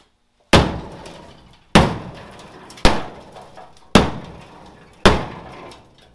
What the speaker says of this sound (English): Tap it with a hammer? Just a little tap.